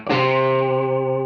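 An electric guitar chord rings out through a UAFX Lion '68 Super Lead amp pedal with room sound turned fully up, loud and distorted, sustaining with a roomy wash and no talk.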